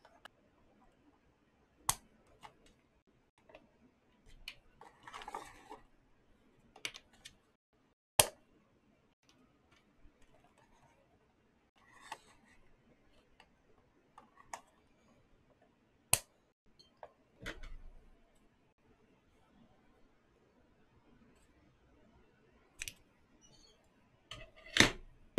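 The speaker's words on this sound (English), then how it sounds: "And then going to start cutting some tubing." Plastic pneumatic tubing for a VEX IQ build being cut, heard as sparse, sharp snips and clicks spread across a quiet stretch, with no talking.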